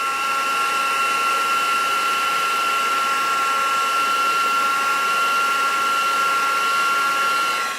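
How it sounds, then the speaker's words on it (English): A heat tool blowing on the glued seam of a lustrous white paper gable box, giving a steady, loud, unbroken whine and airy roar from start to finish with no talk. "use your heat tool and heat up the join here"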